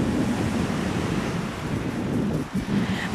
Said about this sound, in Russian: Смотрите, какое у нас море.